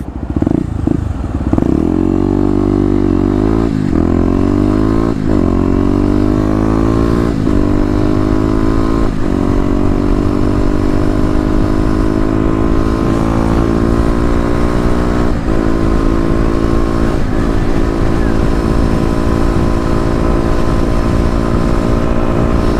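A Kawasaki KLX250 dual-sport motorcycle ride on city roads, the engine droning steadily and loudly throughout with several gear shifts and rising revs, heard close up from the rider's position with wind noise.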